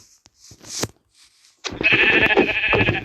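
Sheep bleating up close, a few short broken cries followed by a long loud sustained bleat over the last half, with quiet gaps before it.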